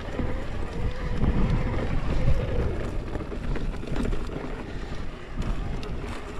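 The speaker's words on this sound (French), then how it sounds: "Ah, il y a le vent qui s'est levé là." Gusting wind buffets the microphone during an electric-assist mountain bike ride on trails near Burgui, a loud, rumbling roar that rises and falls continuously with no clear talk.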